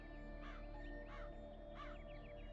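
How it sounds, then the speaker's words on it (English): Crows caw in a crime-investigation video game, three distinct, evenly spaced calls against a steady low ambient hum, fairly quiet and with no talking. "More birds."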